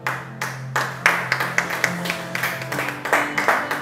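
A church congregation claps together in a steady, rhythmic beat of sharp hand claps, fairly close and loud, with a low sustained tone underneath and no speech.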